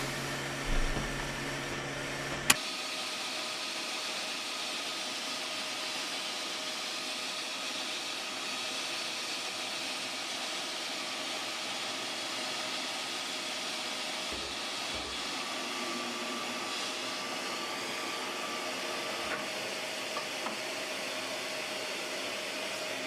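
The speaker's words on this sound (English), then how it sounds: "the milling machine really does a quick work of this process. Just carbide roughing and milling, go at it" A milling machine roughs cast iron with a carbide cutter, giving a steady, loud, continuous mechanical whir and hum that holds for the whole stretch, with a sharp knock early on and a few small clicks later.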